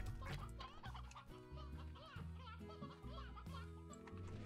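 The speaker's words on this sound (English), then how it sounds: "Chicken." Chickens clucking and gobbling in the video game Slime Rancher, a busy, fairly loud cluster of fowl calls over steady game music, with no talk.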